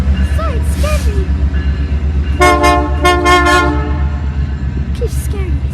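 A Canadian Pacific Christmas train sounds its horn in several loud, close blasts, two short ones followed by longer chords over the rumble of the passing train, while voices chatter nearby.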